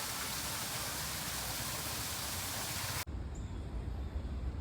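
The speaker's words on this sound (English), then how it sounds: "Got a little waterfall right over here." A small waterfall in Central Park, New York, gives off a steady, dense rush of falling water, close and continuous, with a sudden shift in tone partway through.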